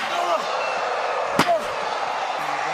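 A steel chair strikes a wrestler during a WWE SummerSlam 2020 match, a single sharp metallic crack amid loud crowd noise, with commentary talking over it.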